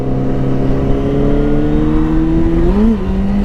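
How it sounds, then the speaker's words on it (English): Yamaha Fazer 600 motorcycle fitted with Black Widow exhausts, a steady loud engine drone with a rising pitch near the end as it revs up, alone without talk. "His exhaust sound, I think they're Black Widow exhausts."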